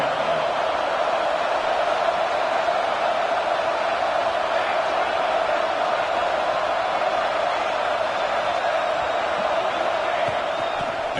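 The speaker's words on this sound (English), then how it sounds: "the crowd coming to life here trying to help this defense down in the red zone" A football stadium crowd roars as the defense holds in the red zone, a broad, sustained cheering din that stays steady and full throughout.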